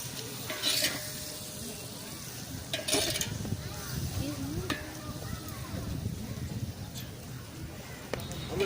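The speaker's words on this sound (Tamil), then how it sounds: "இப்போ புதினா போட்டுக்கலாம். நல்லா கலரி விட்டுக்கணும்" Mint stirred into a sizzling rice mixture in a pan: continuous frying crackle with occasional scraping strokes of a spoon, while a voice murmurs faintly in the background.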